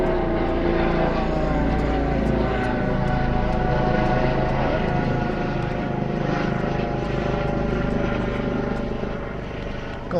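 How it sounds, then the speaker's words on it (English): A helicopter passes overhead outdoors with a loud, continuous rotor thrum and engine whine that swells and then eases over about ten seconds, while voices can be faintly heard in the background. "I can hear a helicopter coming."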